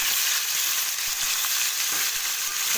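Close, loud steady sizzle of chicken frying in oil while being stirred, dense hiss with soft scraping knocks from the spoon, no voices.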